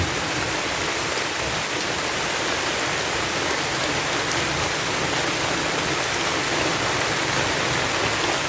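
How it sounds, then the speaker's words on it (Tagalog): Heavy rain pours down outdoors in a dense, constant roar of hissing droplets that stays loud and unbroken throughout, with no voices. "At talagang maulan ngayon."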